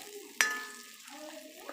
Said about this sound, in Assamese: কেইটামান মটৰ দিছোঁ মই লাই শাকত ভাজি